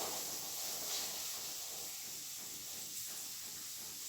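Chopped onion sizzles steadily in hot oil for a soybean curry, a continuous close bright hiss and crackle with no breaks and no voices.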